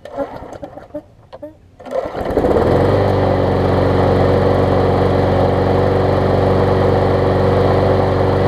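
A Bolens lawn mower, freshly serviced with an oil change, sharpened blade and new carburetor diaphragm, cranks over with a few pulls, then catches and settles into a loud, steady running drone close by.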